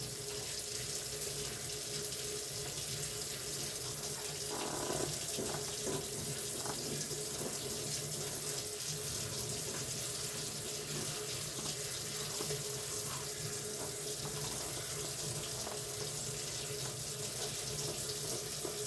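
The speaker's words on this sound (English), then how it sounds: "I'm going to use my sprayer hose just so I don't make a big mess." A sprayer hose wets down soil for starting herbs, a continuous close hiss of running water with a slightly louder surge around the five-second mark, and no voices.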